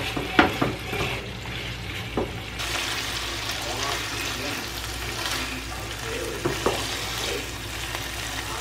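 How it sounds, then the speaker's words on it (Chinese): Pan-fried chicken stir-fried with scallion whites, chili and white pepper in a hot pan gives a steady close sizzle, with scattered clinks and scrapes of the spatula stirring through it and no talking. "刚才的调料都加进去以后，继续的来翻炒，最后再把葱绿加进来"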